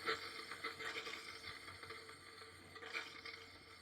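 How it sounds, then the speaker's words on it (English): Air and water spit from an RV's hot water faucet while the water heater fills during dewinterizing, a faint, uneven hiss with sputtering bursts that swell near the start and again toward the end. "That's the air getting pushed out of the water heater from the water."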